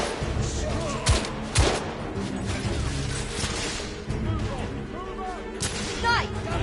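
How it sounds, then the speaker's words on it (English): Gunfire from The Order: 1886, a third-person shooter, in sharp close shots and bursts that keep crackling over a dense combat din, with voices calling out through it. "I'm under fire!"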